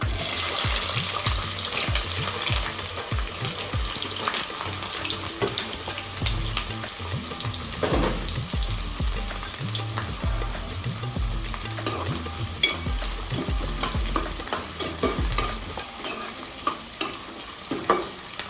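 Onions sizzle steadily in hot oil for a village-style fish curry while a spoon repeatedly scrapes and stirs the pan up close, with no one talking.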